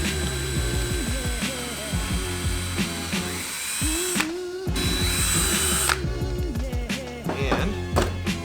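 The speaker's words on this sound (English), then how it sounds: "we're just going to drill a couple holes." A power drill bores straight down through scrap wood, several short whirring bursts with pauses between them, near and loud, and the motor pitch rises and falls with each hole.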